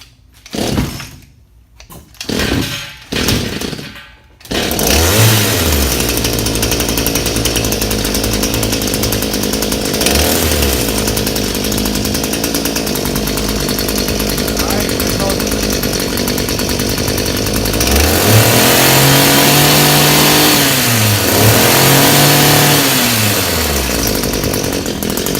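An Echo hedge trimmer's small two-stroke engine, just repaired with new fuel lines, sputters through a few pull-start attempts, then fires and runs loud and steady at close range, revving up twice near the end.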